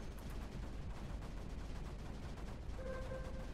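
Cannons in Creeper World 4 pound away at creep in a steady, dense barrage of rapid, overlapping shots, fairly loud and continuous, with a faint tonal hum entering near the end.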